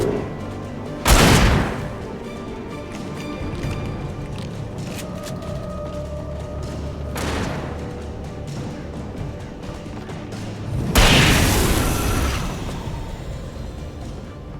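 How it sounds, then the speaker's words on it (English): Shooting in the video game Alan Wake Remastered: a few loud, spaced booming shots with long decays, set over a low, steady game ambience. "Shooting."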